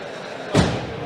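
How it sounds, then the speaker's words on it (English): A giant inflatable air wall in a convention hall slams into itself with one dull, booming thud, loud and close, standing out from a steady background hum. "it's this giant air wall in between us and the vendor hall. So it's loud, it's proud, and it's slamming into itself"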